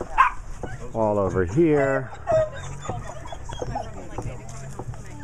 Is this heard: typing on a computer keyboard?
no